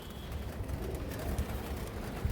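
Large racing pigeons coo softly in low, rolling murmurs, faint and steady against a quiet background.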